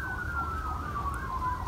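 An ambulance siren wails outside as it passes, a faint, distant wavering tone that holds steadily throughout with no talking over it.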